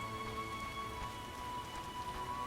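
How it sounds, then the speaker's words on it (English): Steady rain pours in The Witcher video game, a constant even hiss of falling water with a faint low tonal hum from the game underneath and no talk. "It rains and it pours."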